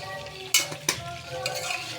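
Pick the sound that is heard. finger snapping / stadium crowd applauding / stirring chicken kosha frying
stirring chicken kosha frying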